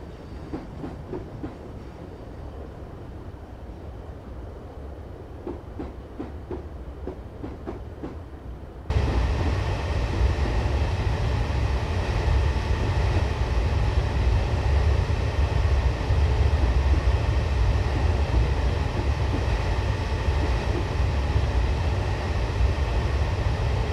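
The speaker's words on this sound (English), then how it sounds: "I'm going to shut off the power and allow the train to coast until we're able to accelerate further" A Class 156 diesel multiple unit coasting with power off in Train Simulator 2015 on the Carlisle to Dumfries line, a steady low rumble with faint wheel clicks that jumps to a louder, broader roar partway through.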